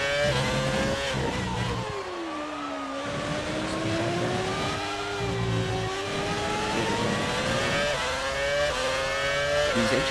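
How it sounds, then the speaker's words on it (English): F1 cars from the F1 2019 racing game scream at high revs, a sustained loud whine that rises and dips with gear changes, the main engine joined by other cars around it, and a voice occasionally speaks over it. "These engines are screaming like F1 engine is screaming."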